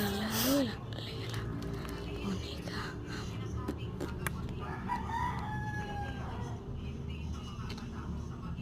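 A rooster crows briefly near the start, then faint clucks and rustling follow over a quiet background with soft voices.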